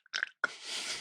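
A short, wet sputter followed by a hissing spray as Dr Pepper squirts out of a bottle, faint and close, with no voices.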